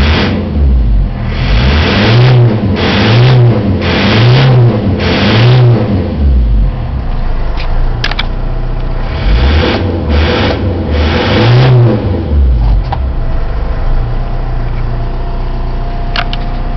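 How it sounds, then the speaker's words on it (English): A VW 1.9 diesel engine with a running problem revved repeatedly at idle, several rising and falling surges in quick succession, a pause, then one more rev, loud and close with a steady clattery idle between. "I'll give it a little rev."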